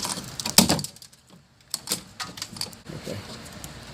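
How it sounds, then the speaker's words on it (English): Sharp plastic and metal clicks and knocks come from working a BMW front door lock actuator out of the door, a loud snap followed by scattered lighter clacks. "Now it's time to push the actuator out."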